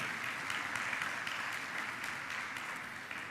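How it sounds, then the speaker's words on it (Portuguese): A church congregation applauds together during a family worship service, a steady dense wash of clapping hands that holds at an even, fairly loud level throughout without any voices over it. "Você pode aplaudir a Deus por essa oportunidade que nós temos nele?"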